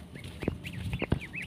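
Farmed geese eating feed pellets give several short honking calls close by, some overlapping, with brief pauses between them.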